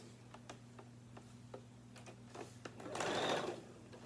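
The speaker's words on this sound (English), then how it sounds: "I'm just going to sew all the way down" A sewing machine stitching down the sides of a fabric tote bag with a quarter-inch seam, giving a low steady hum with soft ticking and a brief louder whirring burst near the end, close and quiet, with no talking.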